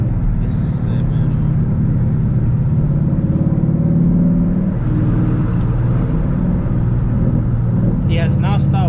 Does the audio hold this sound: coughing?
no